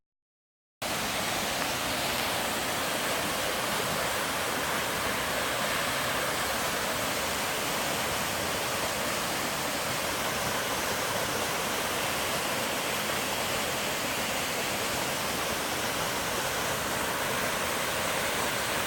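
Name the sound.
waterfall rushing water on La Cloche Silhouette trail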